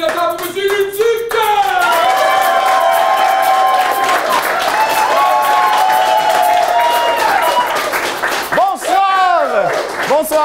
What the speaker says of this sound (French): Alors on applaudit tout le monde